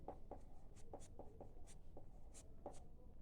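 Chalk or marker strokes on a board during a maths lesson, a series of short scratchy taps and squeaks at an uneven rhythm, close and fairly quiet, with no talking.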